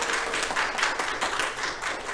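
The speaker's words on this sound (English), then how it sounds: "I think we need to give Miss Kelly a round of applause." A church congregation claps in a short round of applause, an even, continuous patter of many hands filling the room for about two seconds.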